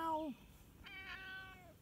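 A friendly female cat meows in greeting outdoors on a neighborhood walk, two drawn-out meows close to the mic with a short pause between, while people nearby talk softly.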